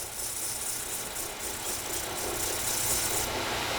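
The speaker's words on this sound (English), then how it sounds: "disc sander" Wooden dowel end is ground to a point on a disc sander, giving a steady, loud abrasive rasp with constant motor noise throughout and no pauses.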